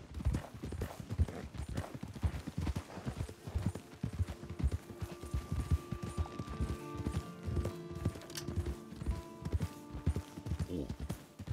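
Rhythmic clip-clop of horse hooves trotting steadily in Red Dead Redemption 2, with game music tones entering partway through and a voice talking over it.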